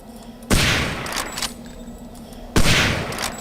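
Loud gunfire in the video game Hidden & Dangerous 2: two heavy shots about two seconds apart, each ringing out, with a smaller shot between them over a faint steady hum.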